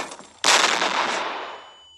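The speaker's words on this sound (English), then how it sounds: "Flashbang. See what that does." A flashbang in the Henry Stickmin video game goes off with a sudden loud bang that tails into a long hissing ring, fading over about a second and a half.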